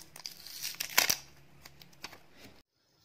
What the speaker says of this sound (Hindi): अब हम अपनी जो वॉच है उसके ऊपर से इस रैप को उतार लेते हैं